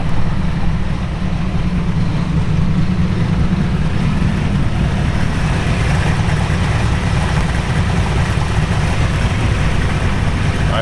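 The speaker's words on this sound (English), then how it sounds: "Idling very nicely, probably 500-600 RPMs, which is about right." A 1955 Chevrolet Bel Air two-door hardtop with a 265 V8 and four-barrel carburetor idles at a steady low rpm, a deep, even rumble heard up close and unbroken throughout, with no talk over it.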